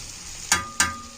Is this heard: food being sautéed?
yes